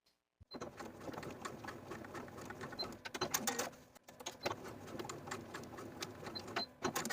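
A sewing machine basting pleats on a romper pant piece runs in a fast, continuous mechanical whir with rapid stitching chatter, briefly pausing once before resuming, faint and close, with no talking.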